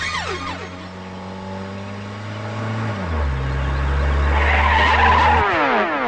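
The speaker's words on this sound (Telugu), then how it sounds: "కారు ఎందుకు ఆపావు?" A car skids to a stop with a long, loud tire squeal over the engine's low drone, the pitch sliding downward as the vehicle slows and halts.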